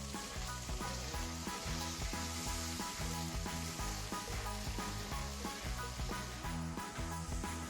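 Bacon frying in its own rendered fat in a pan, giving a steady, close sizzle with continuous crackle and spatter throughout, while music plays underneath.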